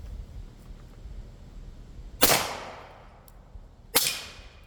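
Two suppressed shots from a PSA Jakl rifle in 300 Blackout firing subsonic Hornady ammunition through an Alaskan 360 Rugged suppressor, each a sharp crack with a short decaying tail, about two seconds apart, outdoors and close.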